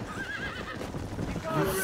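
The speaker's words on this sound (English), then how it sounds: "You fucking horse." A horse in a video game whinnies with a wavering high neigh, joined by clip-clopping hooves and game sounds, while a player talks over it.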